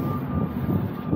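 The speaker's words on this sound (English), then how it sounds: "That sound is a wind rocking the aluminum sheeting." Wind rocking the aluminum sheeting of a loaded semi trailer on a very windy day in Imperial Valley, California, giving a steady low rumble with a thin sustained metallic whine over it.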